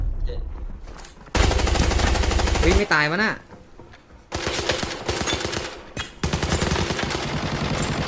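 Rapid bursts of RPK machine gun fire in the video game Arena Breakout, loud and sustained automatic rattling in several long strings with short gaps, while a player's voice briefly exclaims between the volleys.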